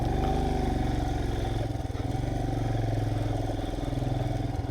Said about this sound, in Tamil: வண்டி கொண்டு வந்து ஆஃப் ரோடு பண்ணிகிட்ருக்குறோம்.